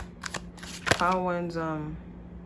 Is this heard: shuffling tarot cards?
yes